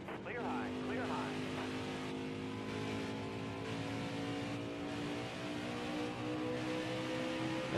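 Race car engines roar continuously in a NASCAR Heat 5 video game race, a steady high-pitched drone of several stock cars down a straightaway, loud and sustained under a commentator's talk throughout.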